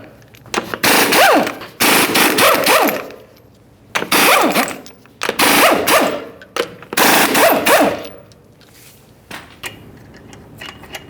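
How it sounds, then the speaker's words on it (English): All six 21mm lug nuts come off the front wheel of a 2015–2020 Ford F-150 in five loud, close bursts of whirring, rattling tool noise. Short pauses separate the bursts, and no one speaks. "we're going to remove all 6 of our 21mm lug nuts and then the wheel"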